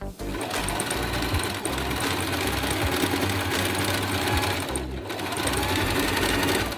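A sewing machine runs steadily while stitching the edges and trims of a fabric patchwork top, a continuous close whirring with a few brief dips, with no talk over it.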